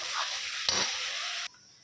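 Food sizzling in a pan for coconut egg curry, a brief loud hiss with a stir or clink partway, ending abruptly.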